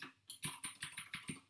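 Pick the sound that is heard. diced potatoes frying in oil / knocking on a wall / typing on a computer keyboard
typing on a computer keyboard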